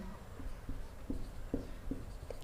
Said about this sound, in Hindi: चलिए हम लिखते हुए चलते हैं एक एक करके